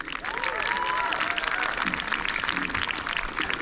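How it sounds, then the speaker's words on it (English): Crowd at a jousting tournament breaks into steady applause with some cheering, sustained for several seconds, while a voice briefly calls out over the clapping near the start. "Give him a round of applause,"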